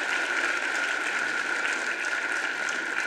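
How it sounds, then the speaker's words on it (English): Audience applause at an assembly member's swearing-in ceremony, a dense, even roar of clapping that stays constant throughout, with no voices standing out. "Let's give him another big round of applause."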